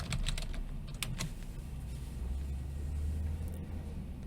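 Keys tapping on a computer keyboard while someone fills in an online application form, a few quick clustered clicks near the start over a steady low rumble like a passing car or engine.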